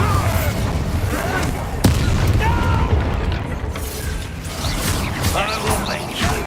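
A Bombarda blast in a Hogwarts wizarding video game: a dense, rumbling explosive roar with a sharp crack partway through, loud and sustained under a busy game soundscape.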